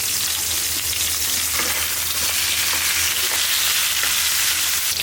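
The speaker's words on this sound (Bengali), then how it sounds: "এখন এটা একটু নাড়া দরকার ছিল থাক কড়াইতে যাই নাড়া হবে" Pointed gourd and potato pieces frying in oil in a wok, with a steady loud sizzle throughout and faint scraping as they are stirred.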